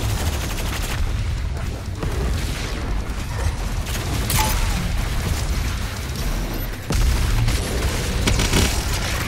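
The BFG 10,000 firing in the DOOM video game: a dense, loud, continuous roar of booming blasts and rumbling mechanical rattle, with a sharper burst near the end, no voices.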